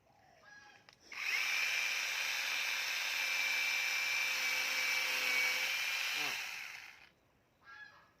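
A power saw fitted with its blade on backwards whines at a steady high pitch for several seconds, then spins down and stops, with faint sounds before and after.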